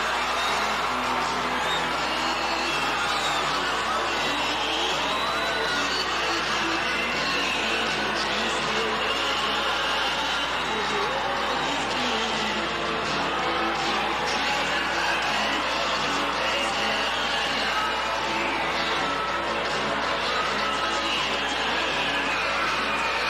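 Capacity crowd cheering at the Sam Houston Coliseum before a tag team wrestling match, a dense, sustained roar of many voices filling the hall without letup.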